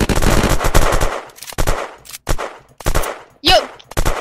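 Rapid automatic gunfire from the video game Unturned comes in loud, dense bursts separated by brief pauses, with a few single shots and a sharp metallic ping, and no voices.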